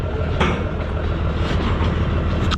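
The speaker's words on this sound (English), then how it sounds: "So sit here and wait for the train." A train rolls past on the rails near a hotshot trucking rig, with a loud, steady rumble and rhythmic clickety-clack from the wheels filling the whole stretch at close range.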